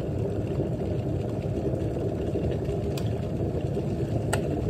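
Water boils in an electric kettle with a steady, dense rumbling hiss that holds an even level throughout, joined by a couple of faint ticks.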